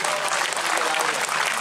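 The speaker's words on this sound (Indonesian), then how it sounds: "Tepuk tangan untuk beliau semuanya." Applause from an audience at a school event for a Quran memorization launch: a brief, even burst of many hands clapping together, loud and continuous throughout.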